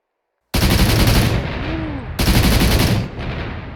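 A Flak 38 anti-aircraft gun firing in the WWII setting of Arma 3, heard as two loud, close bursts of rapid automatic fire, each ending in a rumbling echo tail.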